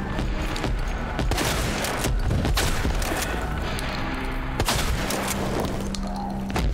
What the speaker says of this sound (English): Damn, 3 shotgun shells to the face.